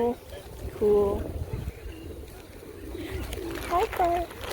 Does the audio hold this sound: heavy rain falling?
no